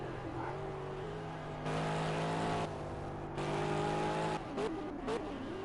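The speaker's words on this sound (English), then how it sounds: "Trying to get that Aston Martin around these turns here, getting the straightaway where he has a little bit more power there." Aston Martin race car engine in a PS4 racing video game, a steady droning engine note that swells louder in two revving bursts, with brief tire noise near the end, no talking.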